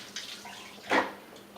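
A whole turkey being lifted from a water bath into a sink gives a brief watery splash and slosh, with softer drips and trickles before and after.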